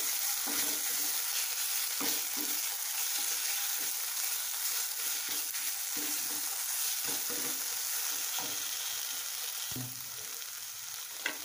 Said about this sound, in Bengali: মশলা থেকে আমার তেল ছেড়ে দিয়েছে